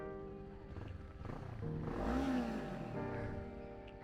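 A Kawasaki Ninja 500 motorcycle engine rises from a steady idle into a throttle blip at mid-clip, then settles back to a loud, close rumble.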